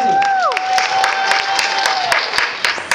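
Applause from a crowd at a junior beauty pageant runway show, dense clapping sustained throughout with cheering voices mixed in, while a musical tone fades out early on.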